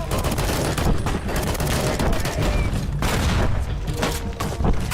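Dense, continuous gunfire in Fallout New Vegas, a steady barrage of overlapping shots and bursts with occasional booms, loud and unbroken throughout with no clear talk.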